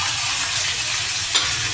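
Tomato, butter-smooth grated onion and garlic sautéing in a pan, a loud steady sizzle close up with one faint clink midway and no voices.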